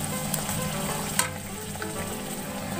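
A puri fries in hot oil in a kadai, a dense bubbling sizzle up close, with one sharp tap partway through and no talking.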